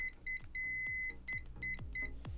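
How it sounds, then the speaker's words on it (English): Sharp electronic beeps from a multimeter in continuity mode sound in a rapid irregular series, some brief and some held longer, close and clear, between clicks and taps. "let's put this to continuity mode, or beeping mode as I call it."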